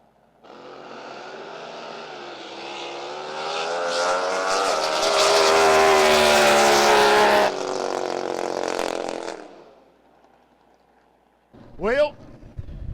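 Two alcohol-burning drag race boats running around 200 mph launch with a loud, rising engine roar that builds to a peak, cuts off abruptly and fades, followed by a brief sharp burst. A commentator talks over it.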